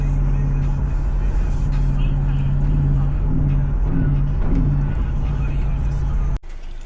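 A rebuilt Jeep SRT8 with a Hemi V8 drives along a road, its steady low engine drone filling the cabin continuously before cutting off abruptly near the end.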